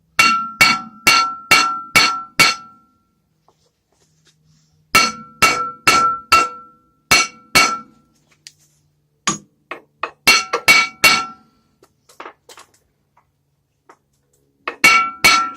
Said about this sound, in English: might have to tap her with a hammer a couple times if you're replacing it